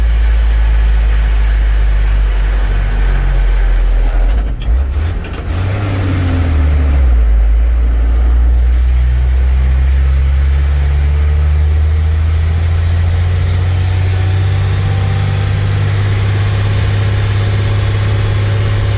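Heavy tow truck engine labouring under load while hauling a Skytrak telehandler, a deep steady low drone that dips briefly and then settles into a sustained strained roar, close and loud with no talk.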